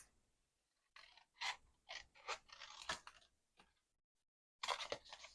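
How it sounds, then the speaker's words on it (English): Scissors cutting pieces of scored paper card, several quiet crisp snips and crunchy cuts in an irregular run with short pauses, close and isolated. "So I'm going to just cut these right along the score line here."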